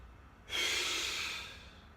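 A single audible breath during a boxing and core HIIT workout, a close breathy rush that rises abruptly, holds about a second and fades, with no talking.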